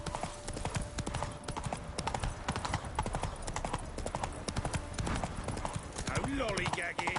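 Roach, the horse in The Witcher 3 video game, gallops with rapid, steady hoofbeats that run throughout, close and prominent, while a voice speaks over the drumming.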